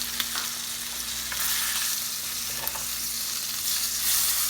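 Filet mignon frying in a pan while being basted with a spoon, a steady close sizzle with faint scraping and spooning touches, no talking.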